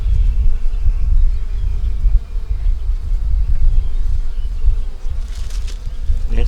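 A low, steady hum of many honey bees buzzing close by at a hive, continuous and dense, with faint handling noises near the end.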